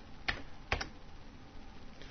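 A few quick keystrokes on a computer keyboard entering a value, faint and close, with brief clicks separated by quiet.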